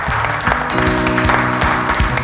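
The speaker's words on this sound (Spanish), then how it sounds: "Dale un fuerte aplauso al Señor" Congregation applauding the Lord during a Spanish-language church service, loud, continuous clapping with a tonal hum of music or voices running underneath and a few sharper claps standing out.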